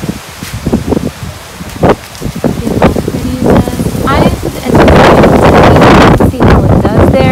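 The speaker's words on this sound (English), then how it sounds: "Sorry guys, we're still having a lot of wind." Strong gusts buffet an outdoor garden where old containers are being replanted with succulents, roaring loudly against the microphone and swelling even louder toward the end, with rustling and faint talk beneath.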